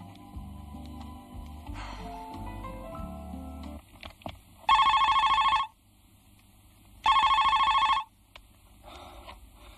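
A telephone rings in two loud, steady electronic bursts, each about a second long and separated by a pause, after some quieter background music and clatter.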